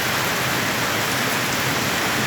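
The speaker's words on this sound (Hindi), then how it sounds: "इंद्रदेव और तीव्रता से बारिश करते हुए" Heavy rain pours steadily in a dense, unbroken hiss, loud and close, with no voices.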